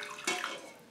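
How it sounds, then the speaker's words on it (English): Turkey stock poured into the liquid portion of a cornbread dressing, a brief soft splash and trickle of liquid close by, lasting under a second. "I'm going to put a little of the turkey stock in the liquid portion here."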